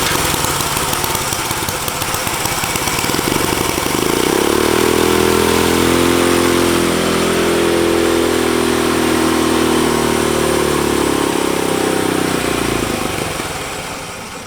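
Turbocharged Corvette go kart engine fitted with a new carburetor, running loud and close with a rough roar that drops to a lower, steadier idle in the middle and then rises again toward the end.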